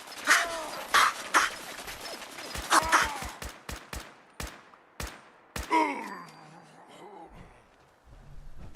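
Gunfire in Fallout 4, a run of sharp, separate shots firing one after another at an uneven pace, with grunts and groans in between and a voice murmuring near the end.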